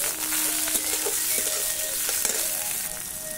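Onion, ginger, garlic and green chili fry in a pan with a steady, close sizzle throughout, broken by a few soft stirring clicks and no talking.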